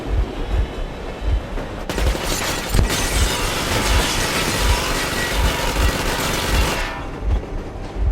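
Sustained machine gun warning fire in the video game Metro Exodus, loud and dense broadband bursts lasting several seconds over a steady rhythmic rumble like train wheels, with no talking.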